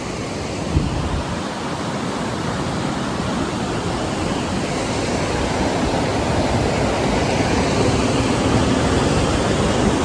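Water rushes over a bridge causeway near the Droneshwar Mahadev temple, a loud, steady, broadband roar of flowing water that continues unbroken, close by and without voices.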